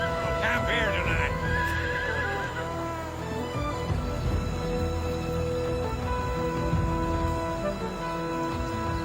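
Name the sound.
horses neighing and hooves clip-clopping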